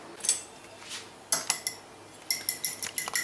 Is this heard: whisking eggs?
yes